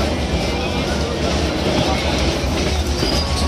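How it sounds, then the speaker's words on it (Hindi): A passenger train travelling at speed on a journey toward Mumbai, with a steady, loud low rumble and continuous rattle of the carriage on the rails throughout, close and enveloping. "ट्रेन काफी रफ्तार में चल रही है, सबको हिला डाल रही है।"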